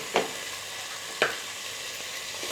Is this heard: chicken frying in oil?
yes